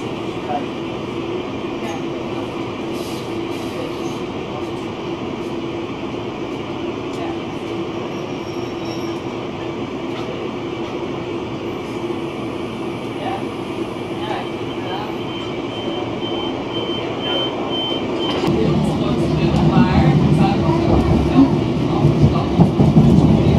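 Steady low rumble and hum inside a moving passenger train from Britomart to Swanson, with faint rhythmic clatter; the noise swells louder near the end.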